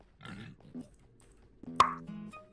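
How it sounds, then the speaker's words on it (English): A person makes a single sharp, loud click with the mouth, standing out suddenly after some quiet talk and a brief short vocal sound. "I can click very loud."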